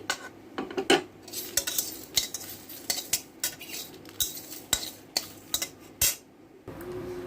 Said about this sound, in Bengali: এবার এটাকে আমি খালি কড়াইতে একটু ভেজে নিচ্ছি